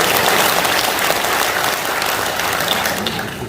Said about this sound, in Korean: 김병욱 의원보다 박수 소리가 작은 것 같아서.